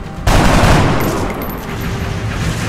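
A loud, close burst of gunfire in XCOM Enemy Unknown erupts suddenly and rolls into a long, dense, decaying roar of shots and reverberation.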